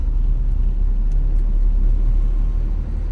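Congested traffic on the NLEX expressway, a close, loud low engine rumble and road drone holding steady throughout, with no talk over it.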